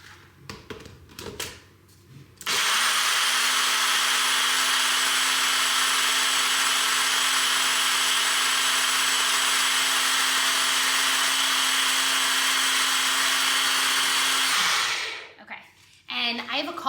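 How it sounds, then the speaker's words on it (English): A kitchen blender runs at a steady high whir for about twelve seconds, loud and constant after brief handling noises, then spins down and stops. "So we're going to take the blender and we are going to just pop this in."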